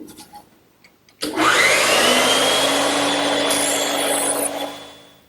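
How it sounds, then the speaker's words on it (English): A band saw cuts the waste from a wooden tenon for an English garden bench. Quiet handling noises come first, then the saw bites in with a loud sustained whining rasp that holds steady for about four seconds before fading. "the band saw is just quicker"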